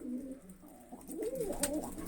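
Pet pigeons give soft, throaty coos in a short rolling phrase, close by and fairly quiet, with no voices.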